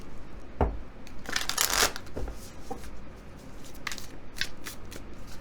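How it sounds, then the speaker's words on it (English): A deck of Colour Goddess oracle casting cards being shuffled by hand, giving repeated papery riffles and flicks in irregular bursts, close and fairly quiet with no talking. "So let's shuffle the cards."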